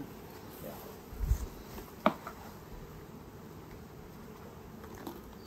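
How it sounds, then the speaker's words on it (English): Honey bees buzz around a commercial beekeeper's hive box outdoors in a faint, continuous hum, with a few brief knocks and taps near the start. "that's a good box of bees right there"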